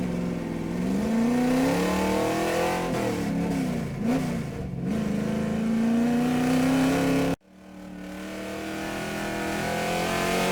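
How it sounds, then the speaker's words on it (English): Number 45 Monte Carlo street stock race car running a qualifying lap at Boomtown Speedway, its engine droning loud and steady with rising and falling revs, then cutting off abruptly before a quieter engine tone returns. "Next up, ready to roll onto the track, number 45 Monte Carlo from Big Bishop Racing."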